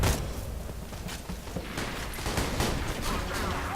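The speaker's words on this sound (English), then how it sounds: "Oh, that's you I'm shooting at." Gunfire in Borderlands 2 comes as dense rapid bursts of shots, loud and continuous, with mechanical clatter mixed in throughout.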